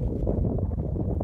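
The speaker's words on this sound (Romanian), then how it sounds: "Vântul a început să bată din ce în ce mai tare, 30-40 km/h" Strong wind, about 30-40 km/h, buffets the microphone on a snowy winter mountain ridge, a dense continuous low roar filling the whole moment.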